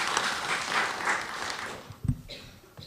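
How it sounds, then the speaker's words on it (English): Audience applause at a conference panel, a broad wash of clapping from a crowd that fades toward the end, with a few low thumps near the close. "Big round of applause for this young lady"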